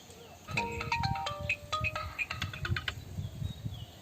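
A mobile phone ringtone plays as a bright, repeating electronic melody of chirpy tones over a low background rumble and faint voices.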